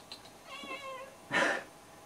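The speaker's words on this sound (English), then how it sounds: "That's the cat, by the way." A house cat meows twice nearby, a soft, quavering call followed by a louder, brighter meow, against a quiet room.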